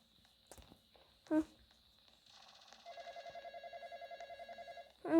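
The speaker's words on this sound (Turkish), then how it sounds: "telefon telefon telefon." A telephone in a Roblox horror game rings with a repeated electronic trill over about two seconds, faint and even, while a few soft thumps and brief vocal sounds come and go around it.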